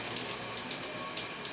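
Shower water running steadily in a bathroom, a constant hissing spray with no breaks, fairly faint and without speech.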